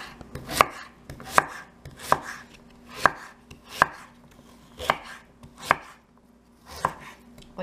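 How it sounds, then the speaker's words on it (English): A knife chops banana heart on a cutting board in eight evenly spaced, crisp strikes, close and clear with no talking. "I cut it in half and then I chop it into smaller pieces."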